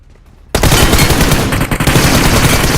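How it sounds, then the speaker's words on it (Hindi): Dense, loud automatic gunfire in a mobile shooter video game, landing headshots, bursting in abruptly after a brief quiet moment and continuing as a sustained rattling fusillade with no talk. "जो ही इसको टन टन आवाज आई है ना भाई, प्रॉपर हेडशॉट लगे हैं"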